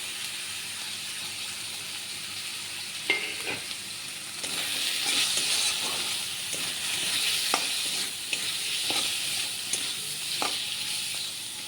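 Onion and ginger fry with ground cumin, chilli, turmeric and Kashmiri chilli powder in a pan, a steady close sizzle broken by scraping stirs and occasional clacks of the spoon.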